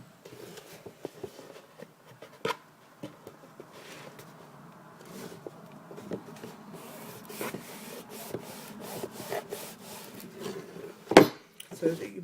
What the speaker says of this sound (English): Try and burnish it down as best as you can without moving it out of place.